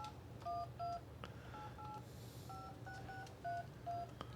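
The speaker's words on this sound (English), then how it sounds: "then you dial your number, Timmy." Keypad tones beep on a classic emergency telephone handset as a number is dialed, about eight short, evenly paced tones over a low background hum, faint and close.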